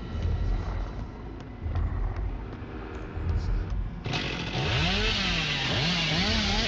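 Hillbilly's chainsaw from the video game Dead by Daylight revs up loudly about two-thirds of the way through, a sustained rising and falling engine whine over busy game noise.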